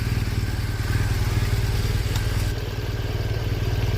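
A 2014 Ducati Panigale 899 motorcycle engine runs after a jump start, with a close, loud, steady idle and a fast rhythmic pulse. It carries a broken engine cover and a slight oil leak.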